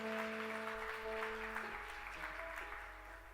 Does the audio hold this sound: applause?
yes